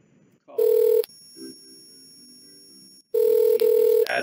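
A desk phone rings on an incoming call placed from another FreePBX extension, two clear electronic ring bursts with a pause of quiet tone between them, loud and close.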